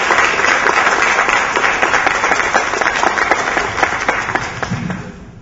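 Sustained audience applause in a lecture hall at an academic talk, dense steady clapping from many hands that thins and fades toward the end, with no voices over it.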